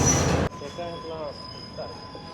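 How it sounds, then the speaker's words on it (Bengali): A train pulls into a station platform in Sri Lanka, a loud burst at the start giving way to steady high-pitched wheel squeal with faint rumble beneath. "এই যে ট্রেন ঢুকে গেছে"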